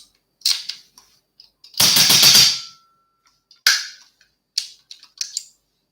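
Rapid follow-up shots from an HW100 air rifle, several sharp close pops with a loud burst in the middle, spaced irregularly with quiet gaps between.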